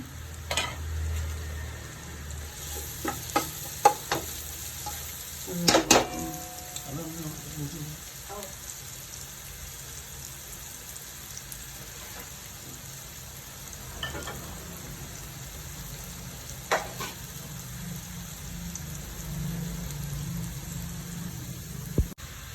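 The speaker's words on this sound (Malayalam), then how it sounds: "രണ്ട് ചെറിയ ക്യാരറ്റാണ് അതും കൂടെ വറുത്ത് കൊടുക്കാം" Steady low sizzling of two small carrots frying in oil, with a few sharp clinks of a utensil stirring near the start.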